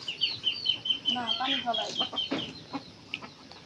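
Ducks and chickens feed on rice in a village yard in the morning, with repeated nearby clucking and short fowl calls rising and falling in an uneven rhythm over a quiet background.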